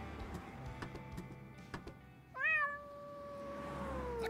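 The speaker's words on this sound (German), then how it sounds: "Ach, die Katze." A cat in the Randal's Monday video game lets out one clear, drawn-out meow after a few soft ticking clicks, close and alone with no voices.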